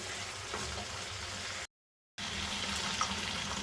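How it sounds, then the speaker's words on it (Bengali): Water poured into a pan of spice-fried potatoes for a Bengali egg curry, a steady splashing pour that cuts off briefly to silence, then resumes with a soft simmering hiss. "এবার আমি এর মধ্যে দিয়ে দিচ্ছি জল।"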